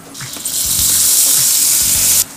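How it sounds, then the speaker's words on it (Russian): Egg mixture poured into frying pans hisses continuously for about two seconds, then stops abruptly, with faint clinks underneath. "И этой смесью заливаем наши сковороды"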